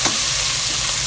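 Ingredients for ridge gourd soup, including pounded shrimp, stir-fried in a pan: a steady, close, loud sizzle with soft stirring scrapes throughout a short burst, no voices.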